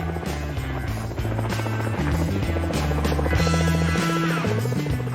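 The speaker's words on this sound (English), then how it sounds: "One of the largest cargo-lifting helicopters in the world was drafted in to airlift the wings" The heavy rotor thrum of one of the world's largest cargo-lifting helicopters, airlifting wings, runs steadily throughout, mixed with dramatic music playing over it.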